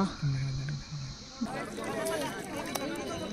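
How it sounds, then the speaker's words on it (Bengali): Crickets in the Halaguru wildlife sanctuary at Muthathi give a steady high insect drone throughout, with people chattering and moving nearby over it. "এটা হচ্ছে ঝিঝির আওয়াজ"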